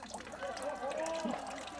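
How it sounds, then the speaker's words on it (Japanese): Faint, steady trickle of water running into a small pond at Motonosumi Inari Shrine on the Nagato coast, continuous and soft through the whole moment. "この池のこの音がまたいいですよね。"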